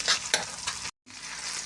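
A spatula stirs and scrapes food in a sizzling frying pan in bursts, with ketchup just added. Frying hiss runs throughout, broken by a brief silent gap before it resumes, with no talk.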